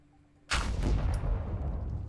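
A large video-game explosion bursts in abruptly after a quiet moment, then rolls on as a loud, sustained rumbling roar that fades only slightly.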